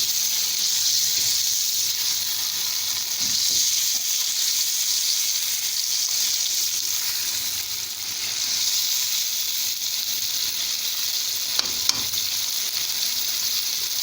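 Balochi tikka karahi frying with salt in a wok, a steady dense sizzle that holds at the same loudness throughout. Occasional faint scrapes and stirring knocks sit underneath, with no talk.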